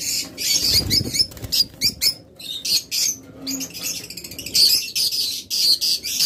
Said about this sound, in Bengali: লুটিনো রেড আই পাখি।